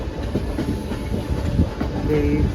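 The Howrah–Mumbai Mail passenger train rolls slowly past nearby in Mumbai, its wheels clattering rhythmically over the rail joints beneath a steady rumble.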